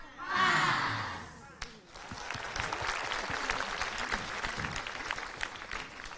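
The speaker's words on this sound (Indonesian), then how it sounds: "tepuk tangannya ragu-ragu" A studio audience at an Islamic TV program gives hesitant applause, with a brief burst of voices and laughter up front, a short pause, then steady, moderately loud clapping that carries on to the end.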